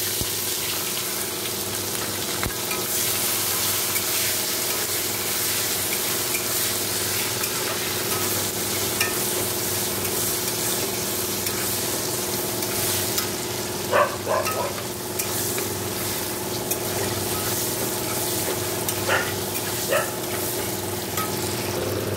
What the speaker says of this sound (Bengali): এবার এখানে পেঁয়াজ টমেটো লঙ্কা আছে, দিয়ে দেবো।